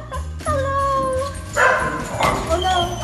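Dogs bark and yip close by in short bursts, mixed with whining, while people talk over them.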